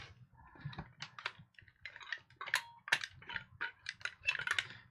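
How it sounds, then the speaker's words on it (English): The buttons on an Atari 2600 console are pressed one after another: quiet, close plastic clicks and taps in an uneven rhythm over a faint low hum. "That button clicks, that button doesn't."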